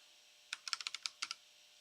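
About ten quick keystrokes sound on a computer keyboard as a password is typed, close and soft, in a short uneven burst with silence before and after.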